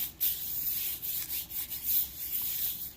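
Hands rubbing a homemade BBQ seasoning rub onto pork for pulled pork, a steady, close, dry scraping and rubbing with repeated strokes and no talk.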